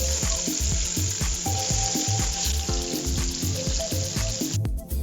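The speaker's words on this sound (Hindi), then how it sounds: "अब मैं जो बाकी स्टिक्स हैं वो इसमें ऐड करूँगी ताकि वो भी अच्छे से फ्राई हो जाए।" Chicken shashlik sticks fry in a pan with a loud, continuous sizzle and crackle, joined by repeated soft stirring and scraping knocks throughout.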